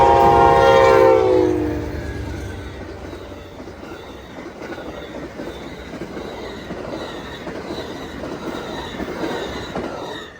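Amtrak Floridian passenger train pulling out of Tampa, with a loud horn blast in the opening seconds, then a steady rumble of wheels and rail noise as the cars roll past.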